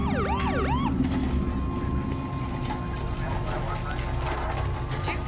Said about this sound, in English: let the ambulance go through